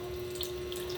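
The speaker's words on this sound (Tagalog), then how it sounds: "So, lalagyan ko na siya ng sabaw, which is yung tubig na." Water poured into a pot of chicken tinola with papaya, a steady close splashing stream with a tonal hum beneath it, heard without speech.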